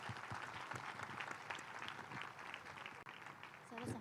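Many people at a large spiritual gathering applaud for children, a dense, fairly quiet crowd clapping that carries on steadily, with voices faintly mixed in.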